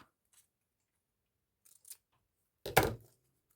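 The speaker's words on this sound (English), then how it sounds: "Right, I'm going to cut this in half." Scissors cutting a paper egg shape in half during a mixed-media craft project: a few faint snips in near silence, then one loud, close crunching cut.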